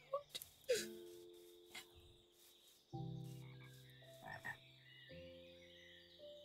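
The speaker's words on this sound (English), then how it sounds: "Lots of frogs." Minecraft frogs croak over and over in a scattered, uneven rhythm, some calls short and close, others longer and lower and stretched out, with brief clicks and faint game noise between them.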